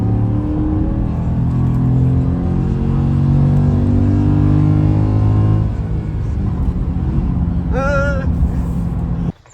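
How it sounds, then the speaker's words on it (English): A Ford F-150 XL pickup engine accelerates under load, its drone climbing steadily in pitch, then eases off; a short chirping sound appears near the end. "it feels pretty quick for a truck. She revs."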